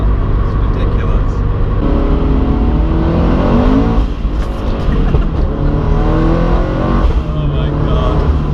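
Toyota GT86 with forged engine internals revving hard on a rolling road, a loud, droning engine roar with rising and falling pitch sweeps inside an echoing space, no speech over it.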